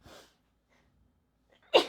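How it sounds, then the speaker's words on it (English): A single sharp sneeze bursts out near the end, loud and close, preceded by a faint breathy intake and near-silence. "I'm gonna sneeze."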